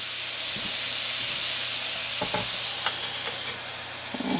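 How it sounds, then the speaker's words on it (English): Hamburger patties sear in a hot pan with a loud, steady sizzling hiss throughout, broken by a few light clicks and scrapes. "we're going to cook this like this for just a couple of minutes, just to sear that side."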